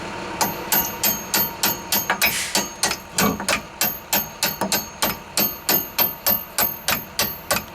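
Rapid, steady metallic blows from the back of a hammer on a Jeep TJ rear axle, ringing out close by, about two strikes per second, loud and bright with a clanging tone.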